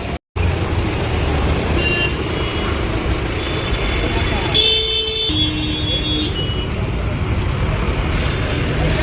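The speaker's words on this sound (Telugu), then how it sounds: "ఇక్కడ ట్రాఫిక్ కూడా చాలా హెవీగా ఉంది." Heavy road traffic rumbles steadily through a busy street in Dharavi, Mumbai, with several short car horn blasts cutting through the engine noise.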